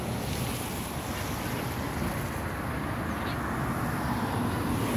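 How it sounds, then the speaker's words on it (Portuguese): Broadband outdoor rush by the rising Araguaia River in Mato Grosso, with steady wind buffeting the microphone over water flowing by; continuous and fairly loud with no talk. "O Rio Araguaia, gente, começou a encher."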